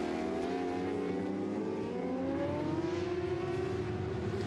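Superbike engines from a British Superbike race at Snetterton, BMW and Kawasaki machines screaming at high revs, a loud continuous multi-engine wail with rising pitch as the bikes race past together.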